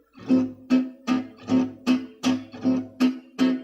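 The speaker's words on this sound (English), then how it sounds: "Let's look at the waltz rhythm." Guitar waltz accompaniment strummed in steady three-beat rhythm, nine evenly spaced chord strokes ringing with the second stroke repeated, played alone at moderate volume.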